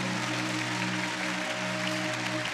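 Loud, sustained applause from a church congregation, continuous and dense throughout, with a steady musical tone held underneath.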